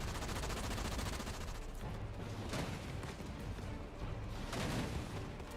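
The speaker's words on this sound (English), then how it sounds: "The turrets keep shooting because there's a watchtower." Automated turrets firing in Halo Wars 2 during a pro league finals match, a dense, continuous stream of rapid gunfire and booming blasts that stays loud throughout with no pauses.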